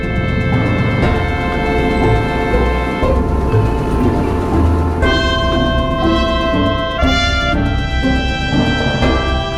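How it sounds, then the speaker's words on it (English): A train pulls into Dunedin railway station in New Zealand, loud and close, with sustained tonal horn or brake squeal layered over steady rumbling rolling noise. "In just a minute, the train is arriving."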